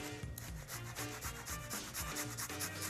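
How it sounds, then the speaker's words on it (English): Garlic is grated on a metal grater, giving quick, even rasping strokes in a steady rhythm, close and clear, with no voices. "So when we mince this with the grater"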